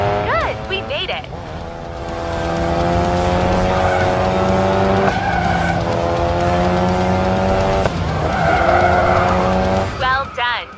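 A race car cornering in the Racing Master mobile game, a steady loud engine drone with long tire squeal and skidding through the turn, with a voice talking over it.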